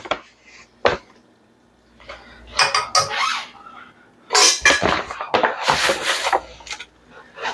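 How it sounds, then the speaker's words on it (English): Flour whisked into melted butter in a pan, heard as close, bright clattering metal whisk strokes against the pan in uneven bursts, growing busier and louder toward the end, with some clinking between strokes. "And we're going to get it whisked together."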